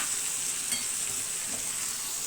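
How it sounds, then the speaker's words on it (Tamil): Tomatoes and onions sautéing in a pan for sambar make a steady, fairly quiet hiss of frying that carries evenly and unbroken throughout, with no voices over it. "இப்போ பாருங்கள் தக்காளி வெங்காயம்லாம் நல்லா வதங்கிருச்சு"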